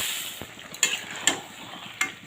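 Marinated chicken pieces go into a pan of deep-browned frying onions, producing a bright crackling sizzle punctuated by several sharp spatula knocks and stirring clatters, close and fairly loud, with no talking.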